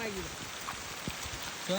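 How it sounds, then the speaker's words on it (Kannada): Steady rain falls during a night trek, a dense hiss of drops on the ground and foliage throughout, with a few faint voice sounds underneath. "ಮಳೆ ನೋಡಿ ಯಾವ ತರ ಬರ್ತಾ ಇದೆ"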